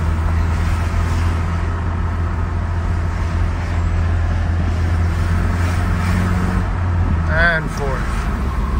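Engine of a 1989 Mazda B2600i 4x4 pickup drones steadily from inside the cab while driving up through the gears, a loud continuous road and motor rumble with a brief squeak near the end.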